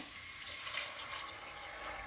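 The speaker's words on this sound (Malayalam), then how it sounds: "ഇതിലേക്ക് നമുക്ക് വെള്ളം ഒഴിച്ചു കൊടുക്കാവേ" Steady, soft rush of water running into a pressure cooker for chicken biryani, continuous and even for a couple of seconds with no voices.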